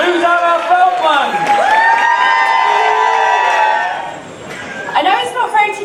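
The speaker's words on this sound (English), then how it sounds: "So let's have a massive round of applause, please, for Mrs. Susanna Feldman." Wedding guests break into loud whoops and cheering for the bride, with rising shouts and a brief lull before another swell of excited voices.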